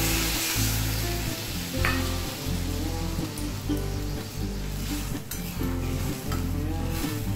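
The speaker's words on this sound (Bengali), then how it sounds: "অল্প জল দিয়ে দিচ্ছি।" Water poured into a pan of fried ridge gourd and potato, giving a steady loud sizzle and bubbling hiss with occasional clinks of a utensil against the pan throughout.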